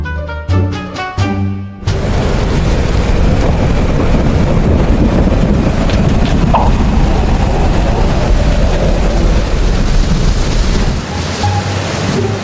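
A loud, steady roar of typhoon wind and churning water fills the animated scene after a short burst of tones at the start, with no talking.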